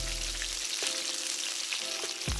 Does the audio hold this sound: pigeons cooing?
no